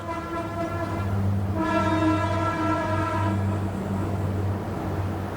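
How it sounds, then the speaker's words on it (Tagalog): A train passes with a sustained, loud horn blast holding steady harmonic tones, swelling and continuing for several seconds over the low rumble of the rolling cars, with no talking. "puwisit na tren yan"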